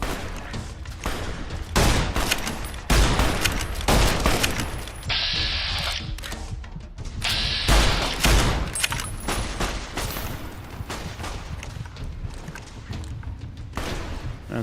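Gunfire in the video game Fallout New Vegas, repeated loud shots in quick bursts with booms and thuds, continuing over game sounds, with no talk.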